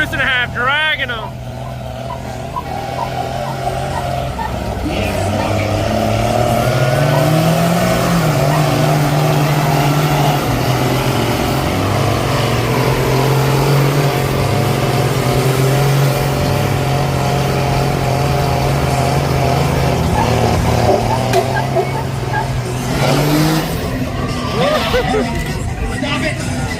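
Huge mud trucks, including a deuce and a half, roar and rev at a summer truck pull, a loud sustained engine drone rising and falling nearby, with a crowd murmuring and voices calling underneath.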